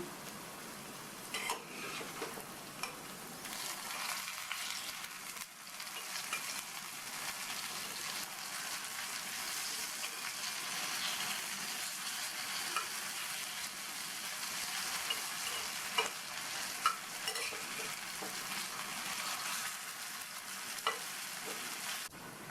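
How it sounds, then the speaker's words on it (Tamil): Kohlrabi roast frying in a pan with ginger, garlic, mint and curry leaf masala, giving a steady sizzle and hiss with occasional scraping clicks as it is turned and stirred, continuous and close. "இப்போ அந்த சைடு ஃப்ரை ஆகிடுச்சு. பிரட்டி போட்டுக்கலாம்."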